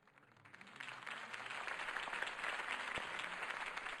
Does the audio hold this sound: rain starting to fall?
no